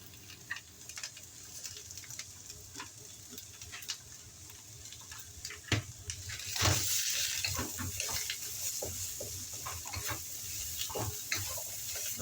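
Celery with white onion and green onion whites stir-fried in a pan, a steady low sizzle with scattered spatula scrapes and clicks, growing a bit louder partway through, no talking.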